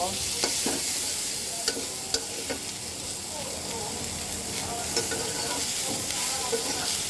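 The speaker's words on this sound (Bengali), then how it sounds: "এইবার পেঁয়াজটাকে খুব সুন্দর করে ভেজে নেব" Chopped onions with a dried red chilli frying in hot oil, a loud continuous sizzle with scraping stirs and occasional sharp pops close by.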